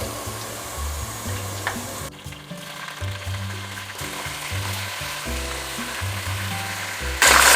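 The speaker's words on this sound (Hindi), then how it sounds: "तो अब मैं इसमें डाल दूँगी" Chicken sizzling in a hot pan while cooking shan pulao biryani, a loud continuous frying hiss with intermittent bursts and scraping as pieces go in, close up and without talk.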